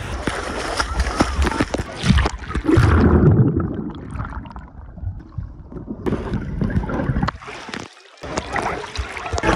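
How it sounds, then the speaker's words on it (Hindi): Choppy waves slap and splash against a small boat out on open water, loud and close with gusting wind noise on the microphone, while people talk over it. "लो जी लहरें शुरू हो गई है,"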